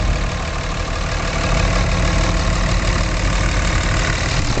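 A Dodge Ram 2500 quad cab diesel truck with four-wheel drive idles steadily and smoothly right after starting, a loud, constant broadband engine rumble with no voices.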